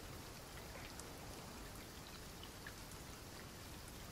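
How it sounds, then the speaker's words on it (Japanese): Steady rain falls in an even, continuous hiss of drops with no break. It sounds faint and distant, and no one speaks. "雨も降っているのに。"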